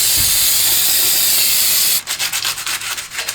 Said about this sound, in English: I'm also going to go ahead and spray the hub down